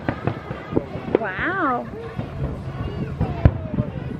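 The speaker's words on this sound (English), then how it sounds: "I'm watching the fireworks, honey." Fireworks bursting over Indian Lake on a July night, with several sharp pops and booms, one whistling rocket climbing, all heard amid a child's and adults' voices and exclamations nearby.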